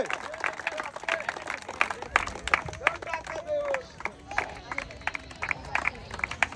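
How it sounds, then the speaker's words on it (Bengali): An audience claps for a contestant at an outdoor village challenge game, scattered uneven hand claps rattling for several seconds while voices chatter and call over them. "সবাই আমার এই ভাইয়ের জন্য জোরে তালি হবে"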